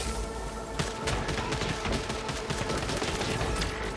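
Dense, sustained gunfire from the sci-fi shooter game Returnal, rapid overlapping shots and bursts crackling continuously at a steady high level with no voices.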